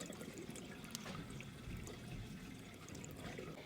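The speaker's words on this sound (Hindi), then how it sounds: "मम्मा ने इशू के बालों में शैम्पू लगाया और उसे पानी से धो दिया।" Water pours steadily and faintly as shampoo is rinsed from hair. The trickle stays continuous with no voices.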